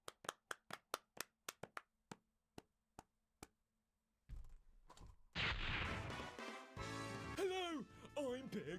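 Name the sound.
round of applause clapping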